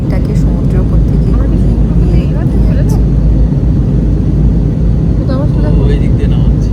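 Steady, loud airplane cabin roar fills a flight descending over the sea toward Orlando, a constant broadband engine and airflow drone with faint voices underneath.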